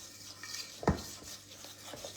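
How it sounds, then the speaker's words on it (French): Food being stirred in a pan, a soft steady scraping with one sharper knock of the utensil against the pan partway through. "Donc on remue un petit peu."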